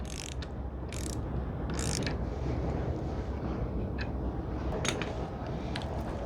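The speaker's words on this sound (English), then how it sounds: "now we can start to tighten the bolt" Ratcheting clicks from tightening a bolt while fitting highway pegs to a Honda Rebel 1100 motorcycle, a steady mechanical rasp with brief sharper ticks, close and moderately loud with no talking.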